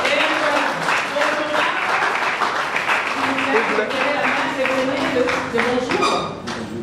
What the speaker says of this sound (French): Pouvons-vous acclamer, s'il vous plaît?